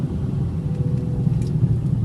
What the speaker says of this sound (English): you certainly can hear the engine revving, but it doesn't sound unhealthy.